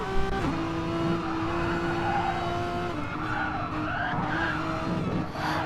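Renault touring cars race side by side in a video game, tyres squealing in long sustained whines over the steady engine drone as they brake toward a chicane, loud and close.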